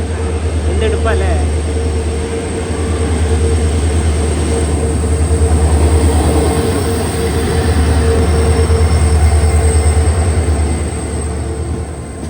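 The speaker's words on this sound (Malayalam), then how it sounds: "മംഗളൂരു ജംഗ്ഷൻ യശ്വന്ത്പൂർ വീക്കിലി ഇതാ വരികയാണ്. WDP 4D ആണ് ലോക്കോമോട്ടീവ്." The Mangaluru–Yeshwantpur weekly train hauled by a WDP 4D diesel locomotive arrives with a loud, steady low engine rumble and continuous wheel-on-rail clatter, close by and sustained for the whole stretch, with a faint squeal early on.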